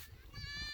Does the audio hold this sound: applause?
no